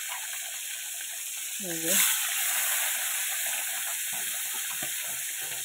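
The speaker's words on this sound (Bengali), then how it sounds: "মাছটা আগে ভেজে নেব" Fish frying in a pan, a constant sizzling hiss with a thin whine running underneath. A short spoken phrase cuts in briefly near the start, and the frying carries on steadily after it.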